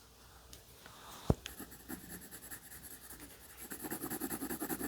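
Colored pencil strokes on paper make soft, close scratching and rubbing sounds, with a light tap partway through and quickening rhythmic strokes toward the end, quiet and without talk.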